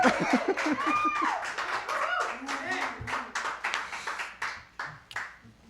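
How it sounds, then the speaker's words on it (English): Scattered hand clapping from a small group, close and uneven, mixed with talking and light laughter that taper off toward the end. "Yeah, now you can clap."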